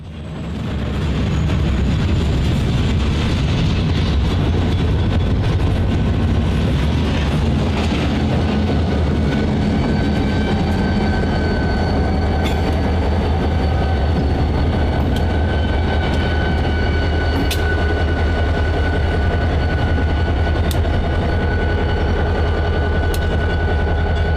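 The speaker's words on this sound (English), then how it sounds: "With their train assembled, the crew began heading east for Plainwell" A freight train on a WATCO line in Michigan rumbles steadily along the tracks with a deep continuous drone, faint squeals and clicks of wheels over rail joints, fairly close and unbroken.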